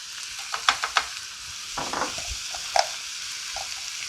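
Chopped onions and peppers fry with browning ground beef in a pan for cheesy taco pockets, a soft steady sizzle broken by a few spatula clicks and stirring scrapes.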